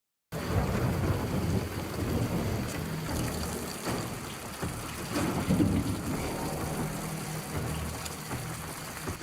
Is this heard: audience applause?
no